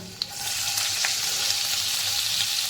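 Crushed garlic, a pinch of asafoetida and finely chopped green chillies fry in hot oil for a fenugreek leaf bhaji, giving a close, steady, hissing sizzle with a single small pop at the start.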